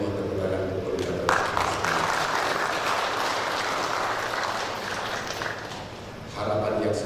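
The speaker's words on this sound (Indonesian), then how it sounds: "mohon tepuk tangan untuk koordinator" Crowd applause at an AMIK Pakarti Luhur graduation ceremony in 2013, a steady wash of clapping that starts abruptly after a voice and fills the hall for several seconds before easing off.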